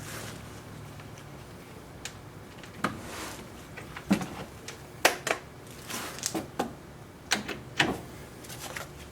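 A wrench works a bolt on a 2005 Cadillac STS front strut during a rattle repair, making a series of sharp metallic clicks and clanks at irregular intervals, close and fairly quiet, with gaps of handling noise between them.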